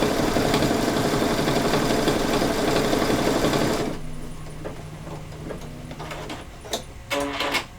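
An embroidery machine stitching with white thread hums with a steady, loud, rapid mechanical whir for about four seconds, then drops to quieter clicks, taps and brief motor sounds close by.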